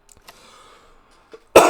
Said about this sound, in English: Apologize for the coughing.